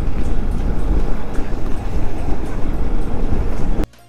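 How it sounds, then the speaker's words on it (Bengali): A train runs alongside a rough road between Tarapith and Bolpur, heard from a moving motorbike. A loud, continuous rumble fills the clip, then cuts off abruptly at the end. "আমাদের ডান দিক দিয়ে ট্রেন যাচ্ছে"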